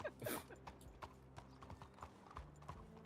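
Horse hooves clip-clop at a walking pace in a roleplay video game, a clear, close run of regular hollow knocks with no talking over them.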